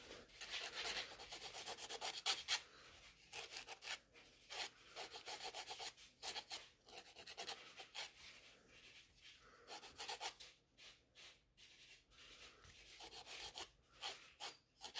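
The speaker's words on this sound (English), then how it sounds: "So I'm just shaping the natural nail and filing around the cuticle." A file rasps against natural nails around the cuticle in short, rhythmic strokes, repeated in quick bursts with brief pauses, close and fairly quiet with no talking.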